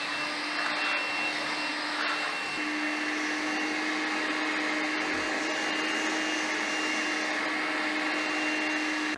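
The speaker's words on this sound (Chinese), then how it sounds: "那第一步需要做的就是吸尘，要把这个地方，尤其这个缝隙中的任何杂质呢，都要吸干净" A vacuum cleaner sucks up debris from a gap in a wooden floor before glue repair, a steady loud whine with a constant hum running throughout, close up and with no talking.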